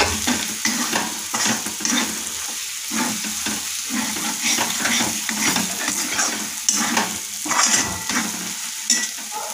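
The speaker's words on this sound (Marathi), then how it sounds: "मसाला आपण छान तेल सुटेपर्यंत तळून घेणार आहोत।" Masala for rohu fish curry fries in oil with a steady close sizzle, broken by frequent scraping stirs of a spoon against the pan.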